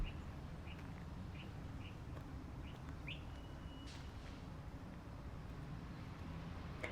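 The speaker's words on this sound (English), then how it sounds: "Let's listen to the birds." Birds sing faintly outdoors on a sunny walk at Stanford, with short chirps repeating every second or so over a quiet, steady background hum.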